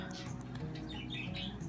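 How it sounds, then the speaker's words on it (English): Pet birds in a living room squawk and chirp continuously in short, overlapping calls, fairly loud and close, over a steady background hum. "I'm sorry if my birds are making so much noise"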